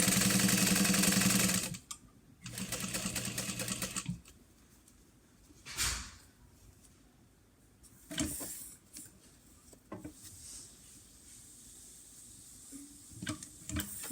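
Domestic sewing machine fitted with a walking foot stitching a small card wallet, a loud whirring run that pauses and restarts, followed by quieter handling knocks and short clicks, no talking.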